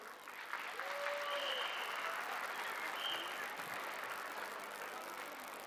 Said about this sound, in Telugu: వేదికపై మన తిరుపతి వైభవాన్ని ఆవిష్కరించిన ఈ నృత్యానికి ఘనమైన చప్పట్లు.